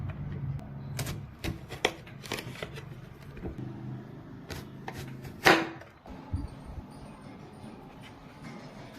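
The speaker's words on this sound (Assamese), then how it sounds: "এতিয়া এই ফলটো মই সুন্দৰকৈ এতিয়া কাটিম।" A knife cuts through a dragon fruit on a board, giving a run of sharp, close taps and clicks in an uneven rhythm, with one louder scrape midway.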